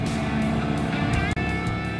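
A car roars down a road at 60 to 70 mph, a loud, steady engine drone with road rumble that continues unbroken apart from one momentary dropout.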